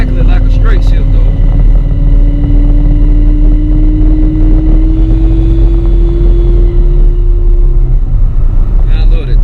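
Turbocharged Camaro with a TH400 transmission accelerating, a loud constant engine roar with a rising whine that climbs steadily for several seconds before cutting off, heard from inside the car.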